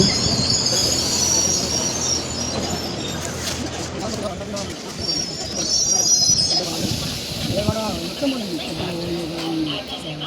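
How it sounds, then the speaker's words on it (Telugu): The Golconda Express slows into Aler railway station with a steady rumble of carriages and wheels, faint high wheel squeal and insect chirping, while a voice talks over the noise. "ఇప్పుడే స్లోగా అయింది మన ట్రైను, గోల్కొండ ఎక్స్ప్రెస్."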